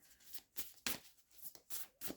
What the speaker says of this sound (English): I shuffle these bits of scrap paper that I've had for ages to get the messages